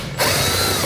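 Power drill with a bit backing out fasteners on a Roadmaster Direct-Connect base plate kit setup: a loud, close motor whir kicks in after a brief moment and runs steadily to the end.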